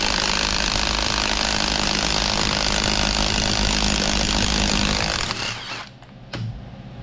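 A small 3/8-inch impact wrench removing bolts from the hydraulic head of a John Blue L Series piston pump runs loud and continuous with a buzzing rattle, cuts off around five seconds, then gives one short final burst.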